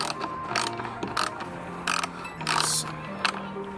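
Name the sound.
ratchet removing bolts from car taillight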